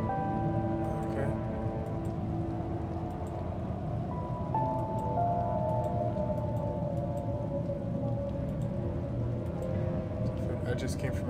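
Steady pouring rain fills the scene in the horror video game Detention, a dense constant wash with a low tonal drone and faint melodic notes mixed in, with no voices over it.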